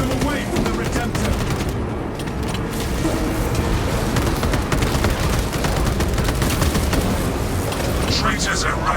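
Dense suppressing gunfire in the Warhammer 40k Space Marine 2 video game, a loud continuous barrage of rapid shots and cracks with occasional booms throughout.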